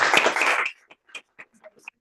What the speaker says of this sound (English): give one last round of applause to Markus celebrating this wonderful